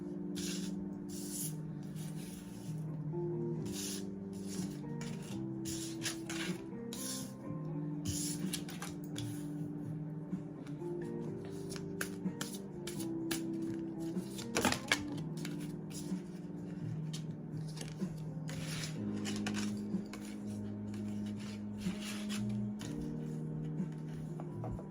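Tarot cards are handled and shuffled at close range, making quiet, repeated papery riffles and soft flicks in an otherwise still room.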